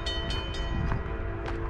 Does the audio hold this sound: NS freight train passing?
yes